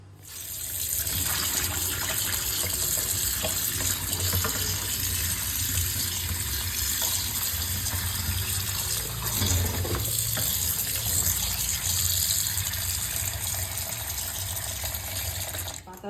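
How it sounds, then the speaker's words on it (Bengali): Tap water runs steadily into a sink while leaves are washed, a close continuous splashing gush with shifting spatter and no talk. "পাতা ধুয়ে নিয়ে চলে এসেছি, জল ঝরা দিয়েছি"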